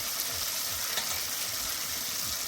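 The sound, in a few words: cabbage added to a hot pan and frying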